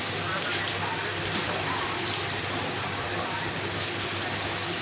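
Rain easing off after a downpour in Bhimavaram: a steady, even hiss of falling rain fills the whole stretch, close and unbroken, with no distinct voices.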